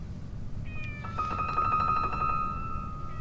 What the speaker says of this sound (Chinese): 刚出生的小猫很容易生病的，先让他们在这儿留几天